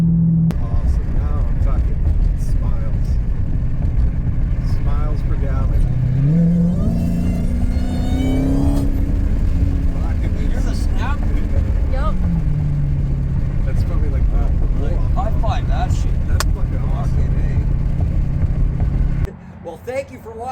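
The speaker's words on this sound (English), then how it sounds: "Definitely hear the supercharger whining now" A 2015 Hellcat's supercharged 6.2-litre Hemi V8 with a K&N cold air intake rumbles and revs up and down, its supercharger whine rising above the roar, while voices talk over it.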